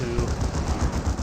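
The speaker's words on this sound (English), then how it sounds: "We'll see some last cannon shots there" Cannons fire in the real-time strategy game Dawn of War 2: Elite, a rapid, rhythmic volley of booming shots over a low rumble of battle.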